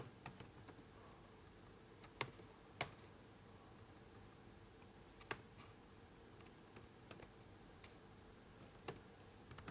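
Keystrokes on a computer keyboard as an SQL query is typed, faint and sparse, with scattered clicks and a few sharper taps over a low hum.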